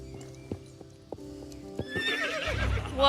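Video game horse in Star Stable whinnies with a rising, wavering neigh after a few single clip-clop hoof steps, close and clear over soft ambient game music.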